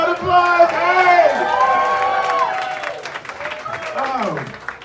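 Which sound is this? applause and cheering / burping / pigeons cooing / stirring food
applause and cheering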